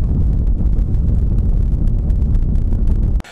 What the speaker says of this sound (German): kräftige Windböen kommen auf